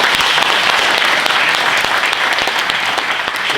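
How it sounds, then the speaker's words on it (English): Crowd at a Korean community meeting with federal election candidates in Ryde, Australia, applauding newly elected city councillors, loud, continuous clapping from many people filling the room. "Give them a round of applause"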